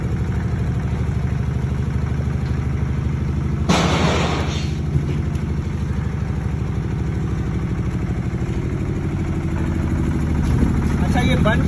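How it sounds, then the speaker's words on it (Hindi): A single-phase 7.5 kVA soundproof diesel generator set with chimney silencer runs continuously nearby, a steady low rumbling hum that never changes, with a brief rattling clatter partway through and someone talking over it. "सिंगल फेज के diesel generator set sound proof"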